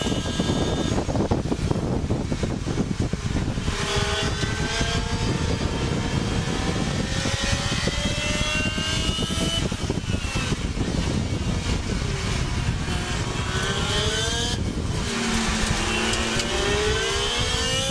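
PRO3 race cars battle at Pacific Raceways, engines revving high and shifting continuously as several cars pass, loud and sustained with wind buffeting the microphone.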